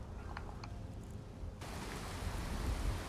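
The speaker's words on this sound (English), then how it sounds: "Stop your raining." Rain in Skyrim falls as a soft, steady wash of hiss that suddenly thickens partway through and stays dense and even to the end, with no voices.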